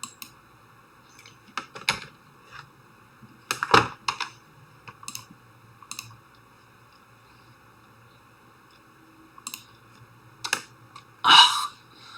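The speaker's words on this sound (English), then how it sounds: "see if I can type in the terminal." Typing on a computer keyboard into a terminal, with irregular clusters of close, crisp key clicks separated by quiet pauses.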